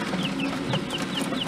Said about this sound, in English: They should end up with over 200 mountain quail this year.